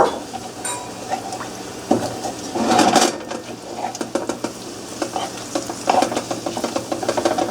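Shrimp sautéing in a pan hiss and crackle as oyster juice goes in, with a louder burst of sizzle and then repeated clattering stirs and scrapes of a utensil, close and loud, no talking.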